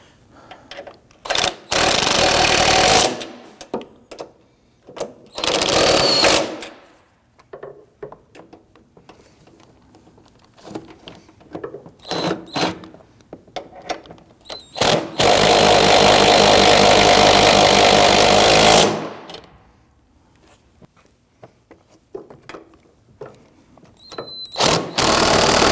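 Power tool tightening the front strut nuts on a 2010-2019 Ford Taurus during strut and spring replacement, several loud close bursts of whirring and rattling impact with short pauses and small clanks between.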